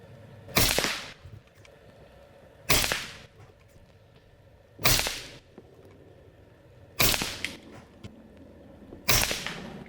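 Five sharp, loud cracks from a Daystate Black Wolf mechanical PCP air rifle, fired one at a time about two seconds apart while shooting a group, each report ringing briefly before a quiet pause.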